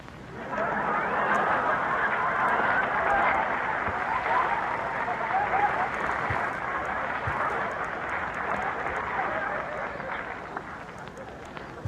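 Audience applause fills an old radio comedy program, a dense steady burst of clapping and crowd noise that swells at the start, holds for several seconds, then tapers off near the end.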